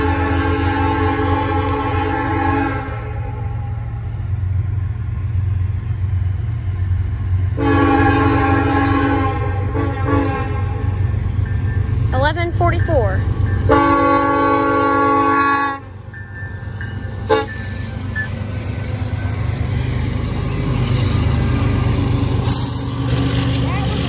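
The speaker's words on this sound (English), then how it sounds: "Southern 1144 leading a mixed freight with an amazing horn" A Norfolk Southern SD70ACe locomotive, number 1144, leads a mixed freight train and sounds its multi-chime horn in several long blasts over the rumbling train. It is loud and nearby, with someone talking over parts of it.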